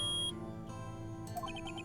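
A beep in the video game Ace Attorney: a single high electronic tone at the start, then soft musical chimes and a few short blips that follow.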